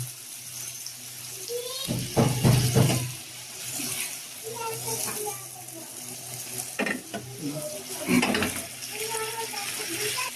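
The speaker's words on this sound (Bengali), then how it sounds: "এবার মাছটাকে একটু মশলার উপরে ভাজবো" Fish frying in spices in a pan, a steady close sizzle broken by bursts of stirring and scraping, with a voice talking intermittently over it.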